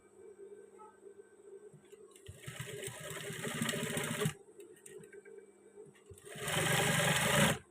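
A sewing machine stitches a trouser waistband band in two loud, fast bursts, running about two seconds each, with a quieter pause of handling between them; no talking.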